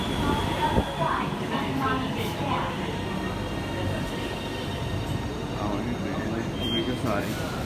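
An Orange Line metro train pulls into a station with a continuous heavy rumble of wheels and motors, a brief high squeal near the end, and people talking over the noise.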